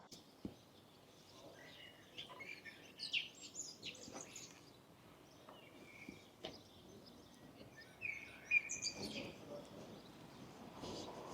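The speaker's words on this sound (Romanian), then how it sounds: "Dacă ascultați cu atenție, sigur auziți cum cântă mierlele" Blackbirds sing by a lake in an Austrian village, with faint, scattered whistled phrases drifting over a quiet outdoor background.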